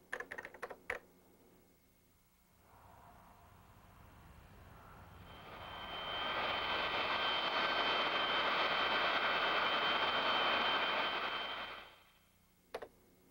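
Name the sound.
airplane flying overhead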